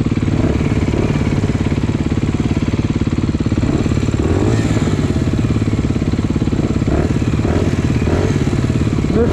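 A motorcycle engine with a new Akrapovič aftermarket exhaust runs loud and close in a steady, rapid thumping drone, with rattling mechanical clatter throughout.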